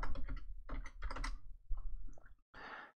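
Typing on a computer keyboard to name a new firewall policy, a close burst of quick key clicks in uneven clusters, pausing briefly before a final dense flurry.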